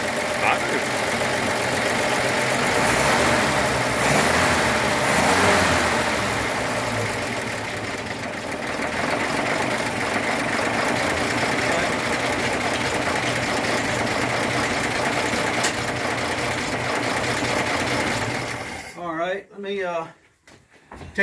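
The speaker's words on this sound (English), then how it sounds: "start it up and look at it" 1929 Chevrolet engine idling in a steady, continuous rumble for most of the stretch, close by, before cutting off near the end, with people talking over it.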